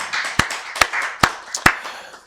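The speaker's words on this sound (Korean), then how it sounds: "우리 박수를 하나님께 영광 돌리겠습니다" Four sharp, evenly spaced claps from a church congregation at a Korean Wednesday worship service, each a crisp broadband burst over a faint room hum, with no talking.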